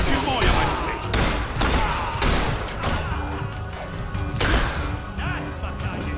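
Gunfire in the game Fable 3 during a fortress battle, dense volleys of shots and crashing impacts mixed with battle noise, with voices talking over it.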